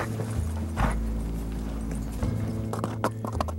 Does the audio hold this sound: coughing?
no